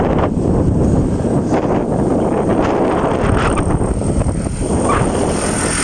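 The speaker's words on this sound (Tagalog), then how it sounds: "Malakas yung hangin dito." Strong wind buffets the microphone in a constant loud roar, gusting unevenly throughout with no voices, outdoors in rural Laurel, Batangas, Philippines.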